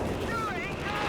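Artillery strike explosions in Company of Heroes 3 rumble in a dense, continuous low roar of blasts, loud and sustained through the whole moment with no distinct separate bangs.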